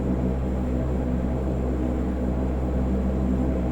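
Convair CV580 turboprop engine spooling up during a cockpit start sequence, a steady loud drone with low rumbling bands, continuous and close throughout.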